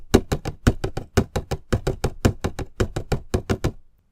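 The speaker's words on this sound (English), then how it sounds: "the sound of stomping on wooden platforms, which can be just an upside-down box on the floor" Feet stomping on an upside-down wooden box used as a platform, a quick steady run of hollow, woody thuds in a lively dance rhythm, close and fairly loud with no voices.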